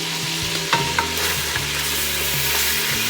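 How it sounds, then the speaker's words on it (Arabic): Lamb meat browns in a pot for Saudi kabsa, sizzling loudly and close while a utensil stirs and scrapes it in a few distinct knocks. "بحب احمر اللحمة واقلبها"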